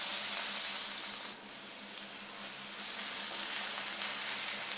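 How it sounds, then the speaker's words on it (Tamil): Crushed garlic sizzles in hot oil in a pan for a prawn fry, a steady, moderately quiet frying hiss that continues without a break. "எண்ணெய் காஞ்சதும் நம்ம தட்டி வச்சுருக்கிற பூண்டை இதில் ஆட் பண்ணிடலாம்."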